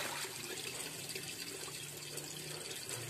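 Water running and splashing steadily while the water in a toman fish pond is changed, a continuous, even rush, fairly close and soft, with no voices.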